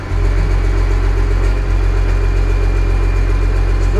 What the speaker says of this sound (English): Still seems like it's idling terrible high.